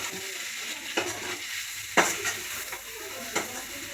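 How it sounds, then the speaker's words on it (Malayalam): Chopped capsicum is stirred in a frying pan for homemade shawarma, giving a steady sizzle broken by a few sharp scraping strokes of a spoon against the pan, close by and without talk. "ക്യാപ്സിക്കും എല്ലാം അരിഞ്ഞു വെച്ചിട്ടില്ലേ അതെല്ലാം നമുക്ക് എല്ലാം ഇട്ട് കൂടി ഇളക്കാം"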